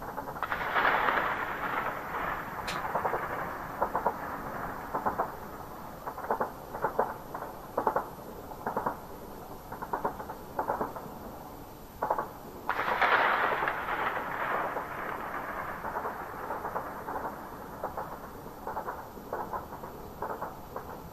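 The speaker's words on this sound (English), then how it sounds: "it sounds like gunfire" Distant gunfire or artillery rumbling over Kyiv during the war, a long series of muffled booms and cracks with some louder bursts, faint and far off against steady background hiss, with no talking.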